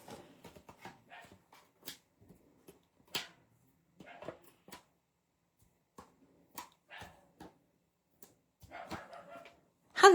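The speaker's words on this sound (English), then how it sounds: "You can hear the dog." A dog gives scattered short barks and yips in a quiet room, mostly faint and spaced apart, with a louder, sharper burst right at the end.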